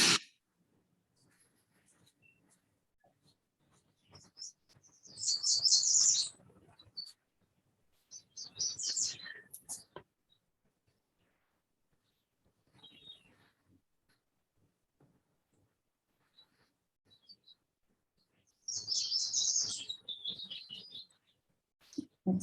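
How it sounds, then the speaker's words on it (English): Birds chirp and sing in short, high bursts a few seconds apart, fairly clear against a quiet room during a moment of silence at a committee meeting. "It's so nice to hear birds in the background when you take those moments."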